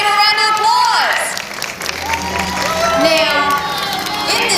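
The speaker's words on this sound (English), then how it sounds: "Let's give them a round of applause." Studio audience at a home-makeover television taping breaks into loud applause with cheering, whoops and excited shouts from children, a busy lively crowd that keeps going throughout.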